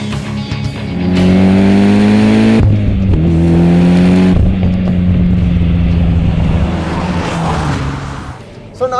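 A tuned 2013 Mitsubishi Lancer Evolution X drives hard, its engine loud and close, revving up through rising gear pulls with brief drops at shifts, then settling and fading slightly at the end.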